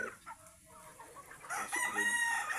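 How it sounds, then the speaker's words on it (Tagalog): A large gold rooster crows once, fairly close and moderately loud, after a few soft clucks and faint background noise. "Laki yun, laking manok, no?"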